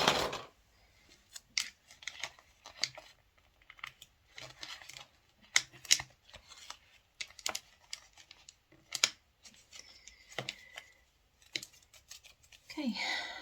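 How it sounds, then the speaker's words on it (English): Scissors snip through paper in repeated crisp cuts, close by, with brief pauses between bursts and some rustling. "These are my paper scissors"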